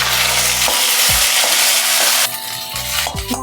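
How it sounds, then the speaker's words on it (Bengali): Spice paste for Bengali shukto sizzles loudly in hot oil, a dense continuous frying hiss close up, broken by the scrape and clack of a spatula stirring. "একটু ভালো করে তেলে আমি কষিয়ে নেব।"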